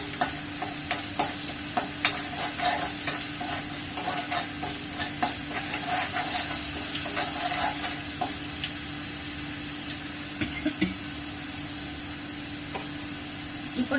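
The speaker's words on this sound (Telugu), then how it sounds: "ఆ స్మెల్ పోయేదాకా కొంచెం ఇట్లా ఫ్రై చేసుకోవాలి." Ground raw onion paste frying in a pan for chicken curry gives a steady, close sizzle with scraping and clicking from stirring throughout.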